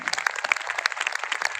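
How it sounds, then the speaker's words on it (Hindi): An audience breaks into brief applause, a quick patter of scattered claps with a few sharper hand strikes standing out, moderately close and without speech. "तालियों से अभिनंदन होना चाहिए"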